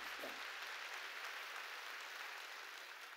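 A church congregation applauds during a sermon, a steady, even wash of many hands clapping that holds faintly and without a break for about three seconds.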